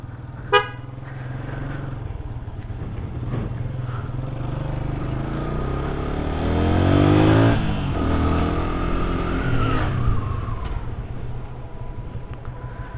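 Motorcycle engine humming steadily while riding after an oil change, with wind noise and a brief rise in revs midway, fairly close and continuous, with a short sharp tap near the start.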